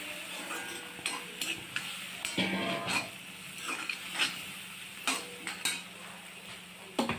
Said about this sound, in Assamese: দি অলপ সময় ভাজি ল'ম।